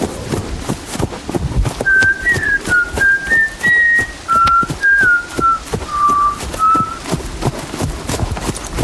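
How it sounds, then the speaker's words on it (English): A lone man whistles a nervous, wavering tune in clear, close stepwise notes, accompanied by steady clip-clop of a horse's hooves in a rural night scene near a haunted tree and bridge. "As Ichabod approached the fearful tree, he tried to whistle, to bolster himself."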